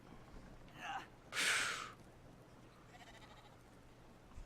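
A sheep in the video game Brothers: A Tale of Two Sons gives two short, fairly faint bleats, the second louder, over a quiet background hum.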